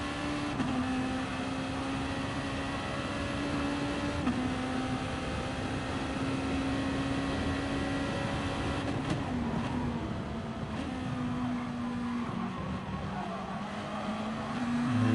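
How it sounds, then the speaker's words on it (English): A race car on circuit during the ARC 1.5 Hours of Alsace endurance race, with steady loud engine drone and sustained squealing tyre tones holding throughout, no talk. "Just listening to those tyres, they're squealing there out of Haga now."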